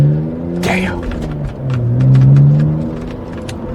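A BMW E85 Z4 drives along with a low engine rumble that rises and falls as it accelerates, close and fairly loud, while someone speaks briefly over it.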